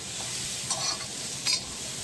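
Green peas roasting in a pan with a pinch of salt: a continuous soft sizzle with two short scraping stirs, close and even, no voices.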